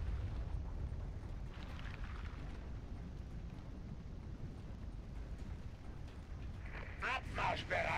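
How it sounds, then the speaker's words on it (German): A lava eruption in the video game StarCraft 2, heard as a steady low rumbling roar with a louder burst of crackling near the end, mixed under game audio and voices. "Lavaausbruch steht unmittelbar bevor."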